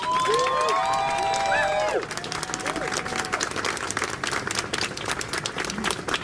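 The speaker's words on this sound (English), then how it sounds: "I want you all to give yourself a round of applause for coming out in this rain" A crowd at an outdoor pride rally in the rain applauds and cheers loudly, with dense clapping and a few whistles at first, then steady clapping continues.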